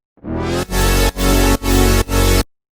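Loud bass and chords play in five short chopped stabs, the pitch bending upward into each hit before cutting to silence.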